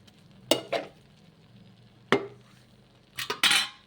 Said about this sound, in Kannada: ಮಧ್ಯೆ ಮಧ್ಯೆ ಈ ಥರ ಗೂರಾಡ್ತಾ ಇರಬೇಕು.